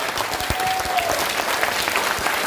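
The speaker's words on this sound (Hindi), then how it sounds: "अपने जगह से खड़े होइए और जोर से ताली मारिए अपने लिए" A seated audience at a motivational team-leadership meeting claps loudly and steadily, a dense, continuous wash of applause filling the room.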